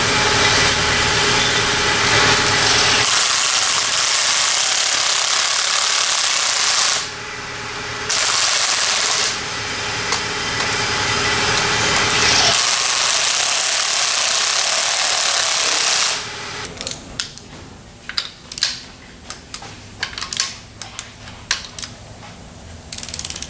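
Torque wrench ratcheting on the head bolts of a 6.2 diesel engine during a rebuild, with long loud bursts of rapid clicking, pauses between bolts, then a run of sharp separate clicks near the end.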